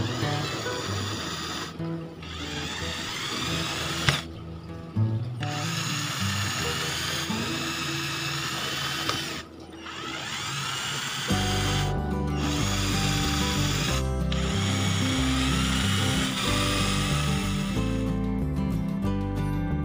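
A power drill bores holes into a Bluetooth speaker cabinet for a 2.5-inch 15-watt full-range driver, the steady whining buzz running in long bursts broken by short pauses, close and loud with no talk.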